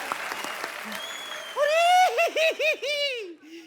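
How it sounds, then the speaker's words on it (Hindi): A studio audience at a comedy talk show bursts into brief, close applause. The clapping fades after about a second and a half as a voice begins speaking over the end. "जोरदार तालियां।"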